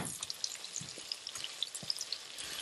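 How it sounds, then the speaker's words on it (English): Soft, faint sizzle of food frying in a pot as it is stirred, with light irregular scrapes and ticks over a steady hiss. "And we continue to stir our food."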